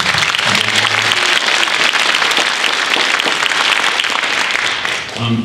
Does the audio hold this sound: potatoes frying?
no